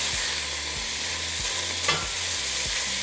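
Beef searing in lard in a pan for barbacoa street tacos, a steady close sizzle broken by several soft scraping stirs and a brief louder spatter midway, no voices.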